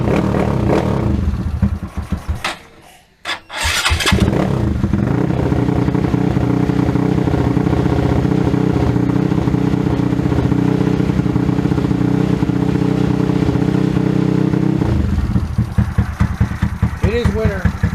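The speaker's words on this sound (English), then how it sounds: "start the bike" A small motorcycle engine, fitted with an aRacer Mini Plus tuning unit, cranks, catches and settles into a loud steady idle close by in a garage in winter, with a brief dip before it starts and a taper near the end.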